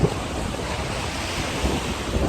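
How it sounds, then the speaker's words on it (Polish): Waves of the Belgian sea wash steadily onto the shore, a continuous broadband surf roar mixed with gusty wind buffeting the microphone, with no voices. "jak Wam podoba się te morze belgijskie"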